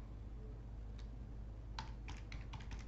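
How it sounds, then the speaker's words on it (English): Quiet computer keyboard typing, a handful of light key clicks in a short cluster over a steady background hum. "I'm just typing here."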